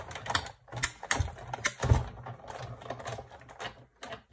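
A Big Shot die-cutting machine cranked by hand, with a die held on its plate by masking tape for stamping, gives a close, irregular run of sharp clicks and clunks that repeat for a few seconds.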